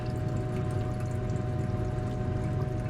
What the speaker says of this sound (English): I'm going to pour this waste solution off.